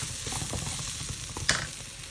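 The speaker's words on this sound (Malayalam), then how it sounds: "അത് കഴിഞ്ഞിട്ട് ഒരു ഫൈവ് മിനിറ്റോളം ഒന്ന് ജസ്റ്റ് ഒന്ന് വഴറ്റുക" A pan sauté ahead of adding chopped red spinach for a Kerala thoran makes a continuous close sizzle with quick stirring scrapes and one sharp clink partway through.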